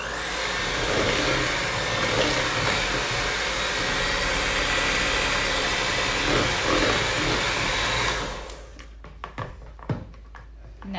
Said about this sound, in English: I'm gonna start mixing, and I'm gonna add speed